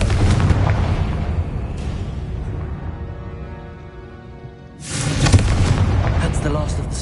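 The Confringo explosive spell in the video game Hogwarts Legacy goes off as loud booming blasts that ring out and fade, then a second heavy burst follows, with a voice speaking over it.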